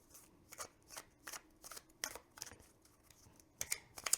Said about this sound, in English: pretty slick for hand to hand, I mean overhand shuffling